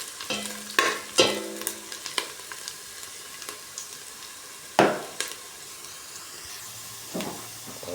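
Squid and garlic frying in a pan with repeated stirring, sharp spatula scrapes and knocks over a continuous sizzle, close and moderately loud, no talking.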